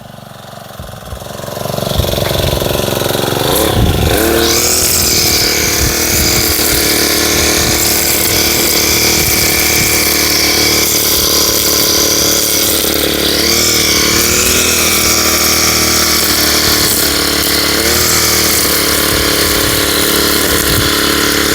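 A backpack brush cutter starts up and then runs loud and close at a steady high-revving engine buzz, with slight pitch wavers as the throttle shifts, no voices over it.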